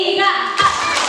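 Children clap their hands together in a short, close burst, with a voice faintly mixed in.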